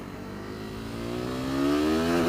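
KTM RC390 single-cylinder motorcycle engine revving, its pitch climbing smoothly and steadily toward the red line over a couple of seconds, loud and close with a buzzy, harmonic-rich tone.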